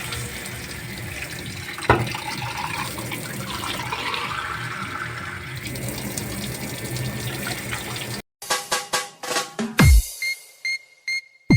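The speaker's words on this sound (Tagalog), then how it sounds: "Lagyan natin ng tubig." Water poured into a cooking pot while a home-cooked dish simmers, a steady running splash lasting several seconds followed by a few short, sharper bursts of liquid and clatter near the end.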